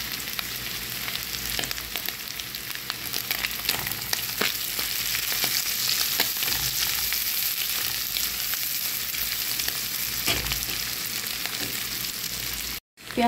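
Garlic, onion and shrimp fry in oil with a little turmeric, a dense, steady sizzle close by with occasional stirring taps, continuing unbroken until a brief drop near the end.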